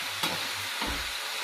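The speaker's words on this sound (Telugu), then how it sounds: "కొద్దిగా ఉడికిన తర్వాత నీట్గా ఇలా కలుపుకుంటూ" Brinjal curry cooking in a pan is stirred, producing a quiet sizzle with two soft scraping strokes over a low background hum.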